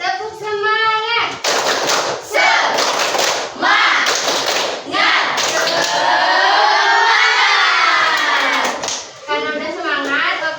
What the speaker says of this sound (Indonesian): Ayo kita mulai, tepuk semangat